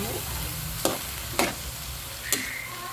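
Food frying in a pan while being stirred until golden brown, Chinese-style home cooking: a steady close sizzle with three sharp scraping clicks of the utensil against the pan.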